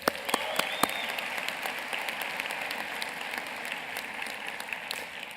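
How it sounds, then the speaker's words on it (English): Sustained applause from the audience at a commencement ceremony, a steady wash of many hands clapping, with a few sharp nearby claps standing out early on. "Please give them a round of applause."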